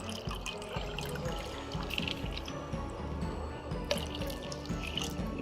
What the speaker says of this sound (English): Now I am adding 2 cups of water to it.